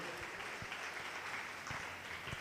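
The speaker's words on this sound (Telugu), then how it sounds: "గట్టిగా చప్పట్లు కొట్టండి" A congregation claps during worship, a short burst of crowd clapping with a few sharper individual claps standing out, captured fairly quietly and at some distance.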